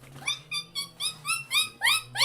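A dog squeaks loudly and close by, letting out about eight high, sharp squeals in a quick, uneven series with short gaps between them.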